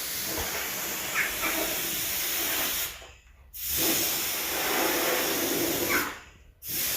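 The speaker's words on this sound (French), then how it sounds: "papa est en train de souffler des vis" Compressed air hisses loudly and steadily while blowing off screws in a workshop, in two long bursts, each cut off abruptly, with short quiet gaps between.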